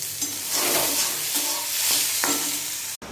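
Sweet hopa fritters frying in hot oil in a kadai give a continuous sizzling hiss, with a few soft stirring scrapes and a brief clunk near the end.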